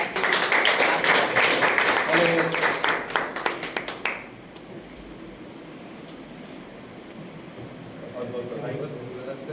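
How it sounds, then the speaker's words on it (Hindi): An audience at a book launch for a song collection applauds loudly for about four seconds, thinning into scattered claps before fading to a quiet room murmur. "आपकी तालियां थोड़ा जोरदार बजा दीजिए"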